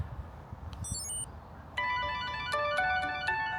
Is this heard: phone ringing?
yes